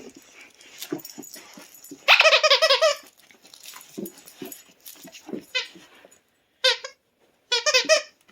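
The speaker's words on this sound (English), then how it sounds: "Let's see if she can get the squeak." An 11-month-old puppy chomps on a GoDog Skinny Dragon plush toy, producing bursts of rapid, high-pitched squeaks in several loud clusters separated by quiet gaps and soft chewing sounds, close by.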